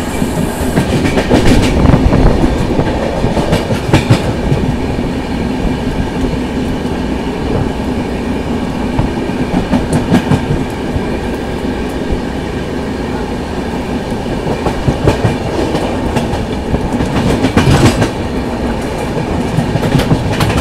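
Chennai Rajdhani Express rolling along the rails, a loud continuous rumble with rhythmic clickety-clack over track joints and occasional sharper wheel clatter bursts, steady throughout with no talking.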